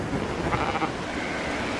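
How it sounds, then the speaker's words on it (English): Sheep bleating on a field during a sheepdog trial, a short steady bleat held at moderate distance against an open-air wash of background noise, with no voices. "there's a second set of sheep you can see at the top of the field that Mo had to turn around"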